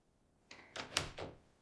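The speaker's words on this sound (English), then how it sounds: "I lock the door." A door being locked: a quiet room, then a few close clicks and clunks of the lock and handle in quick succession, alone without speech.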